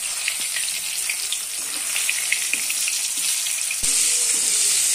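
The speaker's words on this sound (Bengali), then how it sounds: "এইবার অল্প অল্প করে সয়াবিন সাদা তেলে লাল লাল করে ভেজে নেব।" Coated soybean chunks fry in hot white oil with a loud, continuous hiss and crackle, and a brief clunk near the end is followed by a sudden, louder surge of sizzling.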